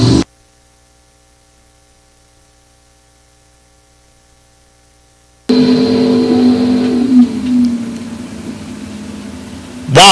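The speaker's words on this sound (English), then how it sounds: "Wow, that was a drag race there" Drag race cars launching and accelerating down the strip at a bracket drag racing event, a loud roaring engine surge that starts abruptly midway after near silence and stays strong to the end, with no voices.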